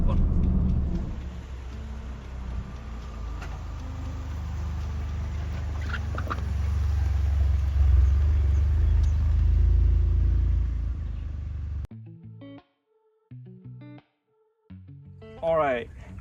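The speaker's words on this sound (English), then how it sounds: "I just finished with driving the GR Corolla." A Toyota GR Corolla drives on Japanese mountain roads, its engine and road noise a heavy, steady rumble that swells for about twelve seconds, then cuts away to quieter, scattered sounds.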